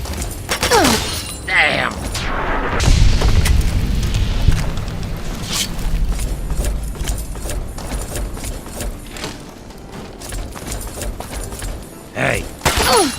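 Gunfire in Fallout 3 (Tale of Two Wastelands) rings out as a volley of loud, sharp shots and booming impacts, with a shattering burst, mixed with a shouted voice and game noise throughout.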